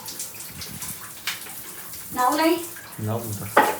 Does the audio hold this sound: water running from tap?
yes